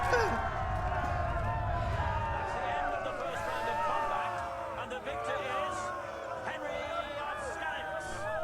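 A crowd watching a sword duel in the video game Kingdom Come cheers and whoops in a dense, steady wash of many voices, with shouts rising and falling throughout.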